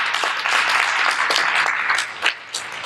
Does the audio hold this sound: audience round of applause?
yes